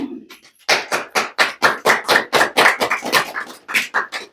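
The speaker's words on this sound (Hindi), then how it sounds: "ताली तो बजती है।" Spiritual congregation clapping in rhythmic unison, a series of about sixteen loud, distinct, evenly spaced claps at close range after a short pause.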